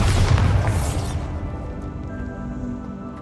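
A Bombarda blasting spell in Hogwarts Legacy goes off in one heavy booming explosion that quickly fades into a low lingering rumble.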